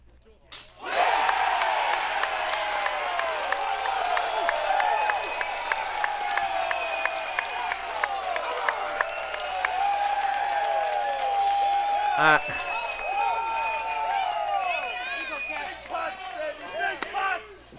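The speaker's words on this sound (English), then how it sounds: "they're ready to clap for anything" Spectators at the 2019 MVP Open disc golf tournament break into a long burst of applause with scattered cheers, the clapping dense and sustained before tapering off, while a commentator's voice talks over it.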